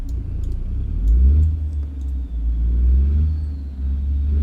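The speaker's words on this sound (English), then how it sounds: "This truck sounds mean." Heavy truck engine in American Truck Simulator, pulling out on a long haul with a dumpster load from Home Depot: a deep, steady low rumble that swells slightly as it builds speed, close and continuous with no talking.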